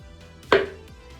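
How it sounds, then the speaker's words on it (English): A single crisp knife chop through banana on a cutting board, close and clear, then quiet. "we're going to cut them in half, and then we're just going to cut them in half lengthwise."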